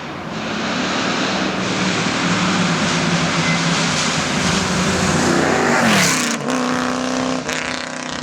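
A Shelby-powered Sunbeam Tiger V8 with straight pipes rumbles loud and close, a deep steady idle that swells slightly, then a sharp blip of revs near the end before it settles back.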